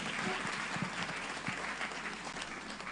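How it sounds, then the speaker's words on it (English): Mourners at a memorial evening of songs and tributes break into applause, a thick sustained clapping from a large crowd, steady in level, with a few sharper individual claps standing out and faint voices beneath. "I know that you can do a lot better than that with the applause."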